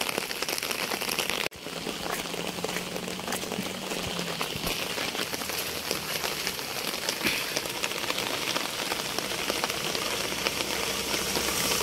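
Heavy rain falling over a village, a dense even hiss of drops on surfaces that holds steady throughout at moderate loudness after a brief dip near the start.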